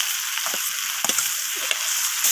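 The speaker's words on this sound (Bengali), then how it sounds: "তো আবারও সব কিছু এইভাবে নাড়াচাড়া করে আমি কষিয়ে নিচ্ছি" Tomatoes sautéing with garlic and ginger paste in a pan, a loud continuous sizzle broken by a few scraping stirs and clacks of the spoon, no talking.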